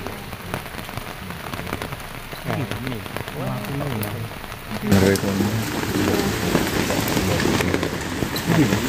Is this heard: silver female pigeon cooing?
no